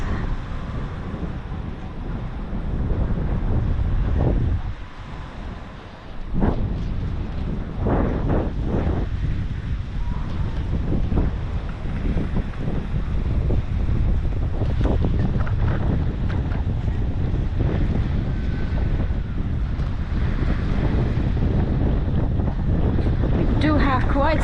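Strong wind on a Key West beach at sunset buffets the microphone in a continuous roar, with gusts rising and falling against a low rumble like water or waves.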